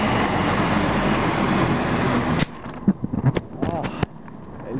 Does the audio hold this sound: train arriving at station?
yes